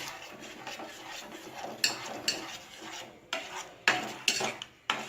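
A spoon scrapes and clinks against a pan while a naivedyam offering mixture is stirred, quiet soft rustling broken by several sharp metallic taps near the end, with no speech.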